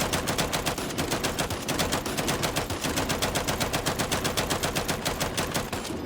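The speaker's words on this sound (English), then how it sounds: "This is a brand new Locust weapon." Sustained automatic fire from a new Locust weapon in Gears of War 5 rattles steadily and loudly, with evenly spaced rapid shots running the whole way through and no talking.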